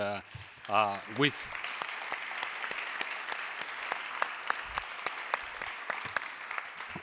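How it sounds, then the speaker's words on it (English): A voice briefly speaks, then a cryptography conference audience breaks into sustained applause for the speakers, a dense, even clatter of many hands clapping that carries on steadily. "I'd like us to give a big round of applause to all the speakers"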